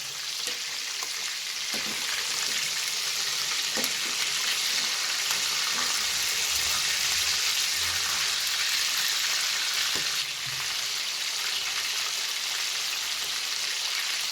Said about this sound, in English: So we'll fry the next side now. We'll invert the fish.